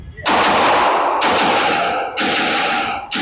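Three loud, sharp gunshots from a 2011-pattern pistol at an outdoor shooting range, evenly spaced about a second apart, each ringing out with a long decaying echo.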